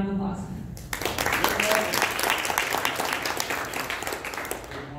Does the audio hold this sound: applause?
yes